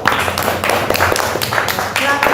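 A class clapping together in a classroom, with quick, irregular hand claps close by and voices and chatter running underneath.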